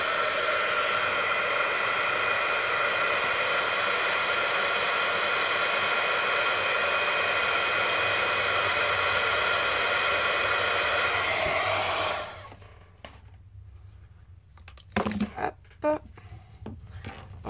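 An embossing heat tool blows hot air over embossing powder on paper, a loud steady whirring hiss for about twelve seconds that then cuts off, followed by light clicks and handling sounds.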